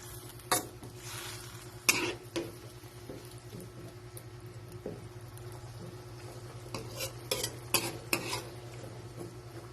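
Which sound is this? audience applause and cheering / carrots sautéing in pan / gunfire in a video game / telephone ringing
carrots sautéing in pan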